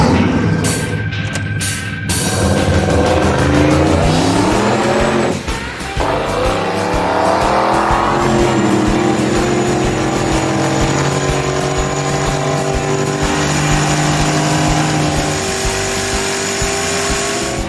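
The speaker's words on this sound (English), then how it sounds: "Fire it up!" Hot rod car engine revving hard on a test pass, a loud sustained roar with rising and falling pitch sweeps that holds steady close by for the full length with no talk over it.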